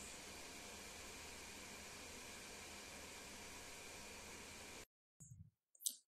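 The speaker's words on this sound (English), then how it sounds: "The fans on this laptop do make a considerable amount of noise to get the heat away." Cooling fans of an ASUS gaming laptop running hard, a loud, steady broadband whoosh held for about five seconds before cutting off, followed by a couple of faint clicks.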